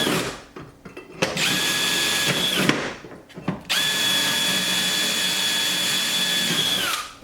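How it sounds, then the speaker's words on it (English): Power drill boring holes for the wing bracket while fitting a Z06 Z07 conversion wing to a C8 Corvette; two loud, steady whines, one short and one longer, separated by brief pauses and clatter. "now I can go through and I can just drill all the other ones"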